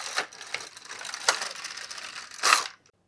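A carriage sliding across an LK150 knitting machine to knit one row: a rattling, clicking mechanical run with a few sharper clacks, ending in a louder burst and a sudden stop.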